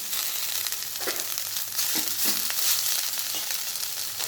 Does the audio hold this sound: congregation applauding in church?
no